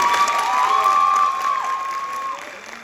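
A graduating class of 2025 at Alabama State University applauds and cheers as a dense, steady crowd wash. A sustained whistle-like tone cuts through the middle before the noise eases slightly.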